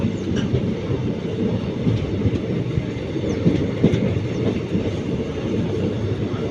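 A train rolling past nearby at a railway level crossing in Tamil Nadu, steady rumble with rhythmic clickety-clack of wheels on rails and faint metallic squeals.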